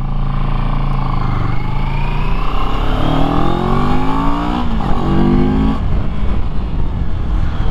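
A Moto Morini motorcycle with Brembo brakes and Pirelli tires accelerates at full throttle, its engine note climbing steadily through rising revs and gear changes, loud and close throughout.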